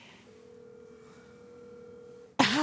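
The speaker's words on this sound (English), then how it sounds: "Come on, Joey, answer the phone" A phone call's ringing tone sounds as a steady electronic purr, fairly quiet, held for about two seconds before a loud burst cuts in at the end.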